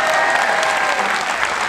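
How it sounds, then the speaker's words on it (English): An audience at a college summit claps in a dense, sustained burst of applause, loud and even from start to finish. "a massive round of applause"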